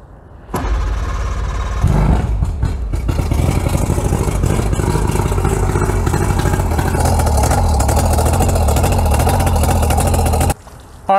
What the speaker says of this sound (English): while the motor is running